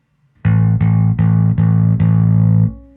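A distorted electric guitar chord through an Anagram distortion block with gain fully closed, struck five times in a steady rhythm, each sustained briefly, with a gritty but moderate crunch, ringing out at the end.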